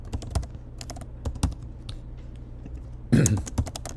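Rapid keystrokes on a computer keyboard tap out in uneven bursts, close and fairly quiet, with a denser flurry of clicks near the end and no talking.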